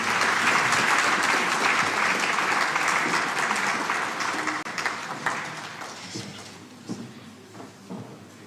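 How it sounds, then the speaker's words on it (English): Audience applause for a Deputy Foreign Minister at a diplomatic seminar, a dense burst of clapping that starts loud and fades over several seconds into a few scattered claps. "can we please give him a round of applause?"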